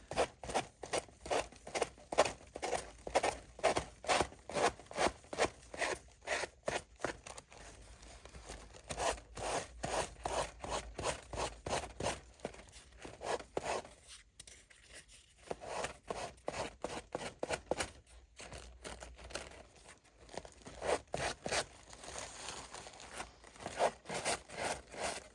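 Sandpaper rubs around the edges of a Tim Holtz craft pocket folio in quick, steady, close strokes that repeat rhythmically with short pauses.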